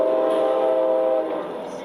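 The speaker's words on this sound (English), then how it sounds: "A man is walking along a bridge when suddenly a train comes fast in the opposite direction." A train speeding toward a person on a bridge, its loud sustained horn blaring steadily and close, then easing slightly as the rumble continues underneath.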